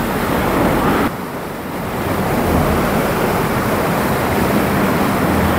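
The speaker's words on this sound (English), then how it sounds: "a whoosh over water" Water pours over the weir of a former mill in the village of Stoney Middleton in the Peak District, making a loud, constant rushing roar that dips briefly near the start.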